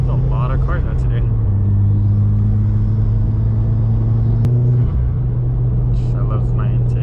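Steady engine and intake drone from inside a 2017 Subaru WRX with full bolt-ons on E85, driven on a canyon road. The tone rises and holds, then drops sharply near the end as the car shifts or lifts off.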